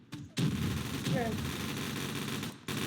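Rapid automatic gunfire rattles continuously in the Gun Fire Arena video game, dense and loud after a short gap at the start, with a brief pause near the end.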